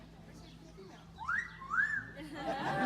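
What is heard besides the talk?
Amazon parrot whistling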